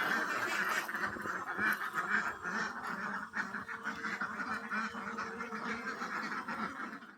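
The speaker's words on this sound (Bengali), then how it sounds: "অনেকগুলো হাঁস, 540টা হাঁস আছে এর ভিতরে।" A large flock of about 540 ducks on a duck farm quacks continuously, a dense, overlapping chorus of nasal calls heard up close and steady throughout.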